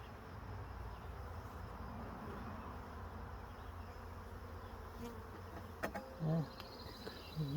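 Bees buzzing around an open beehive during an inspection, a continuous close hum with a few louder passes near the end.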